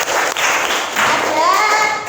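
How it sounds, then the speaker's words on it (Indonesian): A classroom group bursts into applause for themselves, a loud, steady wash of many hands clapping at close range that carries on for about two seconds without pause. "Kita beli aplaus untuk diri kita sendiri."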